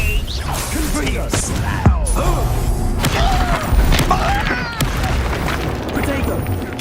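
A Confringo fire spell goes off in the Hogwarts Legacy video game, with booming blasts and whooshes crashing repeatedly under a voice and music.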